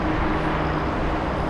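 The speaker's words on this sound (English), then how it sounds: "747 departure." Boeing 747 departing a runway at Los Angeles International Airport, a steady, broad jet engine roar that holds loud and unbroken throughout, with no voices.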